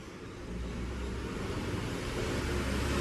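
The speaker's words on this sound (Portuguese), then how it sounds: "Começam os carros a passar, caminhão, e o barulho tá aí, gente." Steady traffic rumble of cars and a truck passing on the road outside, a continuous broadband roar that holds fairly loud for the whole stretch without a break.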